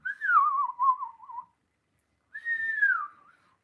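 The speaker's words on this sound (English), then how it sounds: "Like if I try to whistle out, see, I can whistle in." A person whistling while breathing in, producing two thin, wavering tones, the first long and sliding downward, the second shorter after a pause, quiet and close with no other sound.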